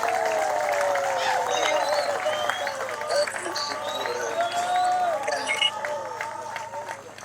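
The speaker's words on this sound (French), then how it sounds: "Qu'on applaudisse très fort." A crowd at a road inauguration ceremony for a private cemetery breaks into sustained applause, mixed with high cheering and ululating voices that rise and fall over steady clapping.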